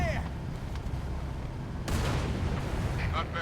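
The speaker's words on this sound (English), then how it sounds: "I saw that explosion before." A large explosion in the Halo 3 video game bursts suddenly and loudly, then a rumbling blast roars on over dense combat noise.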